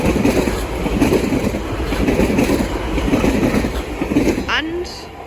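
A Greater Anglia Class 345 electric train, unit 345007, runs through Bethnal Green station on the line from London Liverpool Street toward Chelmsford. It rumbles and clatters steadily nearby at moderate loudness, with a brief squeal near the end.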